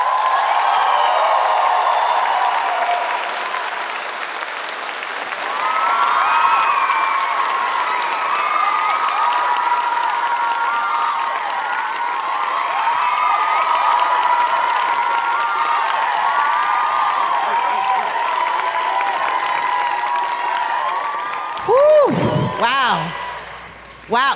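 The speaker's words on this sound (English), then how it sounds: "round of applause right now" A large audience claps and cheers loudly and steadily as Dr. Angela Davis is welcomed to a stage, with whoops rising over the sustained applause before it breaks off near the end.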